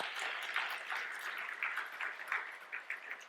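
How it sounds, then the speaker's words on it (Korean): Church congregation applauding during a Sunday service at Daejeon Hanmaum church, a soft, steady wash of many hands clapping at a distance with a few sharper claps, no voices. "우리 한번 박수 한번 부탁드립니다."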